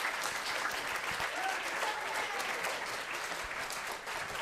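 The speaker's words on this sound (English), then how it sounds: "Let's give them a applause." A school audience at a Pi Day math lecture applauds with dense, steady clapping that carries through the whole stretch at an even level, without pauses.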